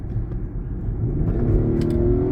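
A car engine idles steadily up close after a valve adjustment, an Infiniti FX37 (QX70), a smooth even rumble with no stumbles or misfires, running alone without talk.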